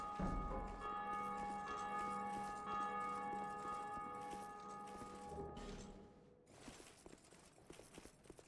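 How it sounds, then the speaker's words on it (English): A large bell rung in Dark Souls 2, one heavy bong whose long, layered tone hangs and slowly decays for several seconds before fading into quieter game ambience. "I'm gonna ring the bell again."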